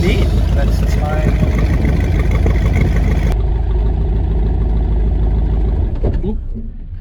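Twin turbo V8 swapped into a Toyota Corolla idles loudly and steadily up close, a low rumbling drone that drops away and fades near the end as the engine stalls, with a voice talking over it.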